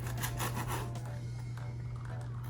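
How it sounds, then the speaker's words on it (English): A serrated knife saws through a baked biscotti loaf on a board with a few quick rasping strokes up close, followed by a fainter scrape, over a steady low hum. "Slice them through because we're going to bake them again."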